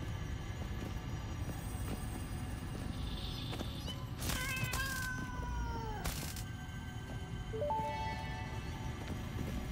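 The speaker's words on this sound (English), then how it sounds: "Little kitty cats that definitely aren't here to harm me." Alien creature cries from the video game Satisfactory: a few short, shrill, mewing squeals and a rising-falling wail, separated by pauses over a low, steady game background.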